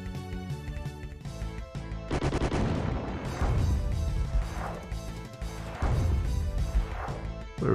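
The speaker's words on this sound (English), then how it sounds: "You know they're gonna fire missiles at me." Spaceship missiles and cannon fire hitting in the Chaos Galaxy demo, a clattering series of impacts and blasts over steady game music, several distinct bursts spaced a second or two apart.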